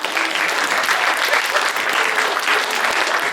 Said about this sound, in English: Give your friends a big round of applause